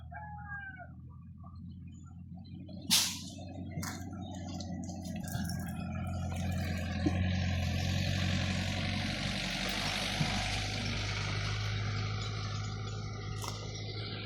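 A truck grinds steadily up a winding hill road on a tea estate to pick up freshly plucked tea leaves, its low engine drone carrying on throughout amid outdoor ambience, with a sharp knock near the start.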